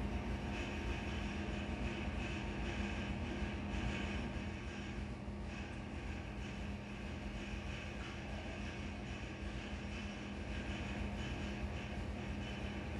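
A car engine on a dynamometer in a test booth roars at sustained high revs, breaking up near 6,900 RPM, a loud, dense, steady drone that holds without pause for the whole stretch.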